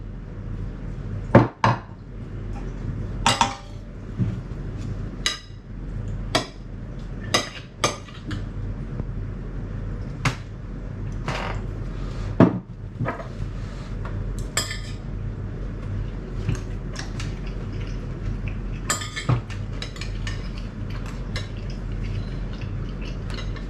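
Freeze-dried pasta and scrambled eggs are stirred together with a utensil, giving repeated scraping clinks and knocks against the dish at an irregular rhythm, close and alone with no talk.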